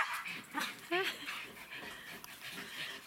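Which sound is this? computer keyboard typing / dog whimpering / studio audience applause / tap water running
dog whimpering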